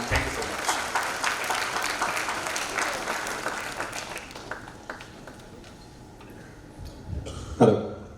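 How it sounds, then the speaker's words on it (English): Parents and guests at a student felicitation ceremony give a round of applause, loud dense clapping for about four seconds that thins and fades into room noise, followed by a cough and a brief thump near the end. "So maybe one round of applause for all the parents out here,"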